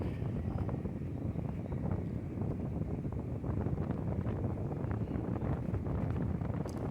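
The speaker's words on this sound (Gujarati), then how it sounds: "પવન જ એટલો છે કે હાથમાં ફોન પણ રહેતો નથી, એટલો પવન છે" Strong wind buffets a phone microphone in a loud, unbroken rumbling roar with constant gusty thumping that lasts the whole stretch.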